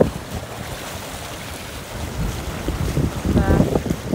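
Atlantic Ocean surf mixed with a small river flowing into the sea: a continuous broad wash of waves and rushing water, swelling louder toward the end, with wind buffeting the microphone.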